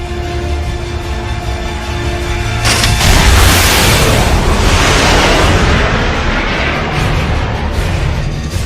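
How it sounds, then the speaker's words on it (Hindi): A missile launched at a target area in an animated film, heard as a sudden heavy blast at about three seconds followed by a sustained loud rumbling roar that slowly fades, with no voices over it. "एक मिसाइल बगैर किसी टारगेट के उस इलाके पर फायर करो"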